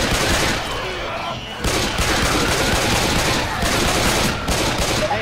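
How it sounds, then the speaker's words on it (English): Rapid pistol fire from the zombie shooter Left 4 Dead 2 in a shopping mall setting, a dense continuous crackle of shots with other game noise underneath and a short lull partway through. "Pistols have unlimited ammo, which is good. Let's just keep shooting."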